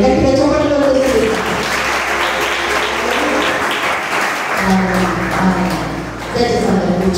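A church congregation claps loudly and continuously after a prayer, a dense wash of hand claps with organ-like tones underneath and voices mixed in.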